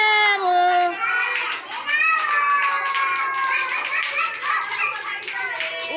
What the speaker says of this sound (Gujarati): તાલિયા બજાવો.